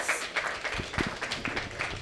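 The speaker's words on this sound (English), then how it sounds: "let us give them a round of applause" An audience at an evening family celebration breaks into a round of applause, dense overlapping clapping at a moderate distance throughout, with a faint murmur of voices underneath.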